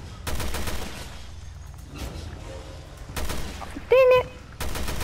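Rapid bursts of gunfire ring out in the survival-horror game Resident Evil Revelations 2. Several loud, crackling volleys are separated by quieter gaps, and a short tonal cry or in-game sound briefly interrupts.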